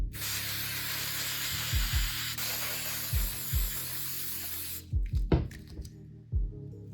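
Gorilla Glue waterproof spray hisses steadily onto Kleenex tissue for about five seconds, a close, continuous aerosol rush, followed by a few soft handling thumps and rustles once the spraying stops.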